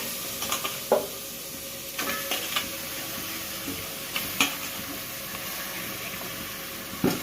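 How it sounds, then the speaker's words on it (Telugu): Chicken pieces land in a hot pan on a stove, giving a soft continuous sizzle with a few scattered clinks and stirring knocks, close and moderate, no talking. "దానికోసం స్టవ్ ఆన్ చేసి చికెన్ వేసుకోవాలి"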